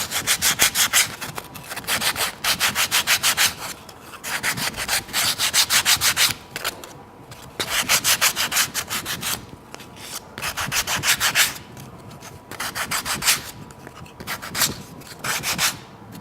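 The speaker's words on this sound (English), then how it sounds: "you can now just sand down these edges to get them really smooth" Abrasive paper is rubbed along the rough wooden edges of a buzz wire game casing in steady back-and-forth strokes, loud and close, in several rhythmic runs with short pauses between them.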